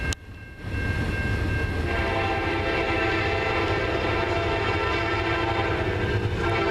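A CN freight train (Q142) led by an EMD locomotive rumbles past Ladysmith steadily with a continuous loud roar and sustained tonal whine, a brief quieter moment at the start before the full passing noise.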